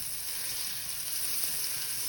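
Butter sizzles and foams in a pan of melted, clarified sugar while making caramel for popcorn, a steady, even frying hiss that continues without a break.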